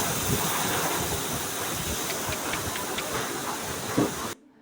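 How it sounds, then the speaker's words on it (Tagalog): Strong typhoon wind in the Philippines roars as a steady broadband rush with hissing gusts throughout, then cuts off abruptly near the end. "Medyo may kalakasan po yung hangin."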